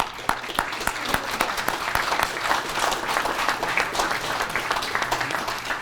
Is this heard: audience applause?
yes